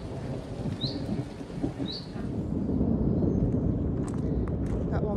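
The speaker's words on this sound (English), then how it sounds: "Does thunder normally go on that long?" Thunder rumbles long and low through a rainstorm over a garden, a loud rolling swell under steady rain, with two short bird chirps early on.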